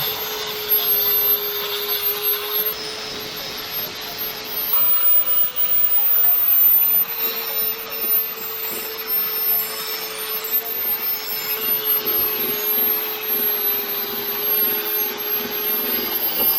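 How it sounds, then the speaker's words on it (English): An angle grinder works fiberglass on a speedboat top cap, a loud, sustained whining drone that holds a steady pitch with slight shifts in load as it bears into the material. "My grinder is not getting to these corners right here. I need to grind all that off."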